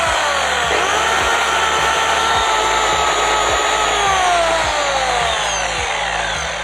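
A faulty electric chainsaw motor, a Taiga PTs-2000 sparking at its brushes and cutting in intermittently, whines loudly and steadily, its pitch sliding and wavering, with a sputtering rhythmic ticking beneath it.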